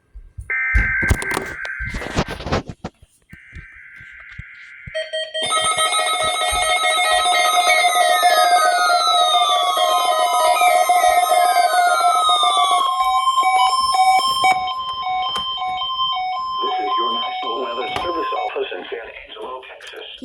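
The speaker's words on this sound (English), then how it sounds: "This is a test of our NOAA weather radio." A NOAA weather radio sounds a test alert: short beeping data bursts, then a long, loud, steady two-tone alarm lasting several seconds, followed by a synthesized voice reading the message.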